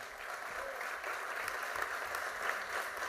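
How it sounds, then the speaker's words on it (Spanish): An audience at a political event in the province of Buenos Aires applauds, a sustained wash of many hands clapping at moderate volume, steady with small swells, and no talk over it. "intendenta de La Matanza, Verónica Magalio, también para ella un fuerte aplauso"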